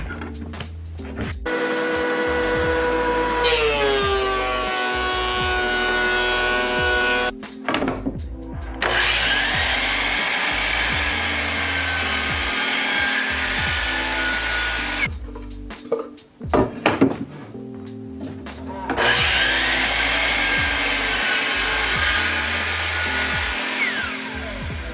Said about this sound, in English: we've cut off the two ends of the cutting board